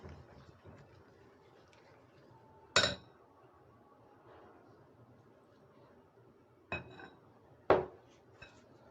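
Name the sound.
spoon stirring milk into Oreo cake batter in a bowl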